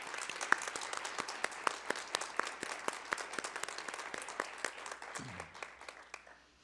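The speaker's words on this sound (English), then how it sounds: "giving these important people a round of applause" Applause at a dental hygiene pinning ceremony, with sharp individual claps standing out in a moderately sized audience, steady and then tapering off near the end.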